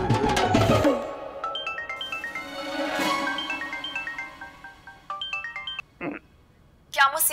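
A mobile phone's melodic ringtone plays a quick stepping tune of bright electronic notes. It follows a loud burst at the start and stops in short fragments near the end as voices cut in.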